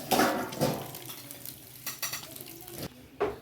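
Fried fish pieces going into a simmering fish curry, with bursts of sizzling and stirring plus clinks of a utensil against the pot, close and fairly quiet, no talking.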